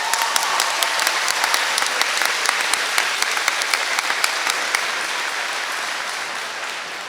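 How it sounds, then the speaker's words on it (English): Sustained audience applause at a school convocation ceremony, many hands clapping in a dense, steady wash that fills the clip and tapers slightly toward the end. "Give them a round of applause."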